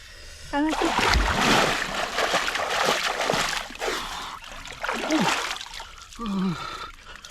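Someone dunks into a cold village pond in the Sundarbans in winter, producing close, loud splashing and sloshing surges, with a voice calling out briefly between them.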